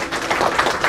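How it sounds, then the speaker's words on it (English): Brief burst of dense audience clapping for a speaker at a professional memorial lecture, a continuous mid-level patter of many hands with no voices. "big round of applause once again for Pattabhiram sir"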